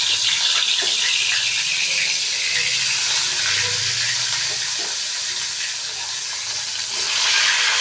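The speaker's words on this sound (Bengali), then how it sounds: "এ কড়াইতে সর্ষের তেল ভালো করে গরম করে নিয়েছি এবার মাছটা ভেজে নিয়েছি" A fish sizzles in hot mustard oil in a kadai, giving a loud, unbroken hissing roar that eases slightly toward the end before building again.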